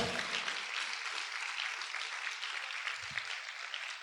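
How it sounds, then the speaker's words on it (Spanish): Congregation clapping loudly for the Lord during a Spanish-language church sermon, a dense, even wash of applause throughout with a faint low thump near the end. "¿Cuántos pueden aplaudir fuerte al Señor?"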